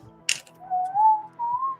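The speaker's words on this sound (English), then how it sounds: "Or are you whistling into the mic?" A person whistling into a microphone during a live comic book auction stream, a short close wavering whistled tone with a brief noisy burst just before it.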